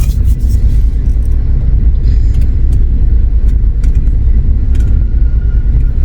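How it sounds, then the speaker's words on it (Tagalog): Steady road traffic rumble heard from inside a moving car driving between Sto. Tomas public market and Tanauan City, Batangas, a loud continuous low drone with faint brief clicks and no talk. "Traffic."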